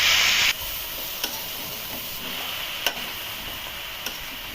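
Brinjal and Malabar spinach sauté in a pan with green chillies, a steady close sizzle broken by a few sharp clicks of the spatula, after a brief louder hiss at the start; no talking.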